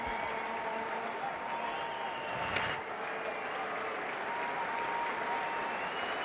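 Steady applause and crowd noise from spectators at a 1985 Australia versus India third Test cricket match, sustained and fairly even as they cheer the opening batting partnership.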